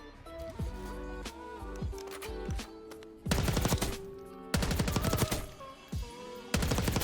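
Black Ops 6 GPR-91 assault rifle fitted with recoil springs firing in loud sustained automatic bursts, with short pauses between strings and ringing mechanical clicks in the gaps, close and clear with no talking.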